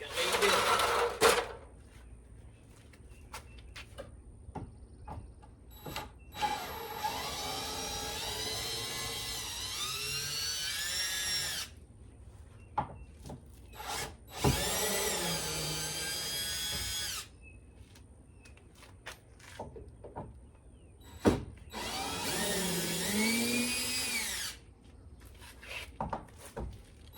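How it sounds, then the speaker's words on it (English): A power driver loosens screws on a vintage mobile hospitality camper bar in several whirring bursts a few seconds long, separated by clicks, handling noise and spoken remarks nearby. "let's loosen our screws up"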